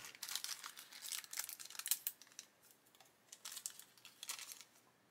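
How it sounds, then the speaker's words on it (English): Scissors cut the end off a plastic parts bag from a 1/144 ME323 E2 Gigant model kit, making close crinkling and rustling of thin plastic in several bursts, quiet with no talk. "I'm going to cut the end off this bag so I don't scratch anything with that staple."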